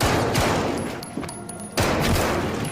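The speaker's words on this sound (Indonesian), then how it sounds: "berapa lama datanglah John yang kehadirannya langsung disambut oleh Sekes dengan beberapa tembakan ke arah dirinya" A rapid burst of loud gunshots, several sharp cracks close together, then a brief lull before another volley of shots.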